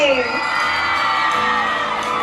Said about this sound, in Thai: ปรบมือเสียงดังให้ดการแสดงนี้อีกครั้งหนึ่งค่ะ เอากลี๊ดด้วยกลี๊ดด้วย